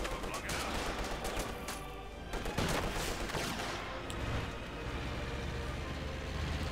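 Dense, loud bursts of gunfire in the Company of Heroes 2 real-time strategy game, with rapid overlapping shots and machine-gun rattle over a constant battle din.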